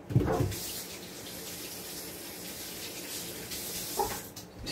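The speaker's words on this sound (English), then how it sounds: "So washing my hands." Tap water runs steadily into a kitchen sink while hands are washed under it, with louder splashing bursts at the start and again near the end.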